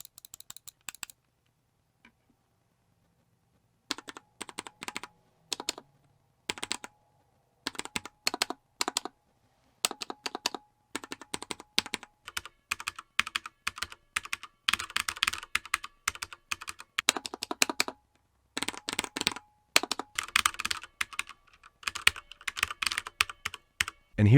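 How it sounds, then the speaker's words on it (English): Typing on a mechanical keyboard fitted with Cherry MX Black switches, close and clear: bursts of crisp, rapid keystroke clacks in uneven runs, broken by short pauses and one longer silence early on, with no voices. "Here's a sound test comparison."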